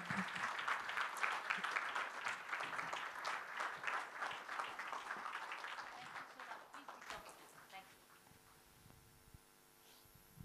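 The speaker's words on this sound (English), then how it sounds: "Big round of applause once again." A conference audience at a CXO summit in Mumbai applauds loudly for several seconds. The dense clapping fades out toward the end, leaving a quiet hall hum.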